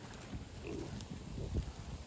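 A pig on a farm kept with goats, grunting and snuffling softly at close range, with faint low grunts and small shuffling noises in a quiet setting.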